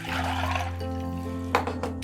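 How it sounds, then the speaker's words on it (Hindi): Water poured into a bowl of ice for chilling rasgulla, a steady close splashing pour with a constant hum underneath and a couple of sharper clinks near the end. "आइस ले लें और उसके अंदर हम पानी डाल देते हैं"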